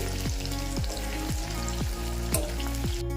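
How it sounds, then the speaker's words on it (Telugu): Bitter gourd pieces deep-fry in oil over a medium flame, giving a constant bubbling sizzle with a rhythmic series of falling, whistle-like tones repeating about twice a second, close and steady throughout. "చూసారు కదండి ఈ విధంగా మొత్తం ఫ్రై అవుతూ ఉన్నాయి"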